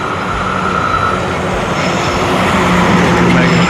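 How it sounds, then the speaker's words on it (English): A strange-sounding car passes on a street in historic Ridgeway, South Carolina, its steady rumbling engine noise filling the whole stretch, loud and close, with some mechanical tonal whine over it. "Weird sounding car you got there, brother."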